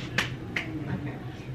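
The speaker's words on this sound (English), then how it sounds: "Right, you gotta clap." Two sharp hand claps about 0.4 seconds apart, made during a name-the-song challenge game, each a crisp isolated slap over low room hum with no talk.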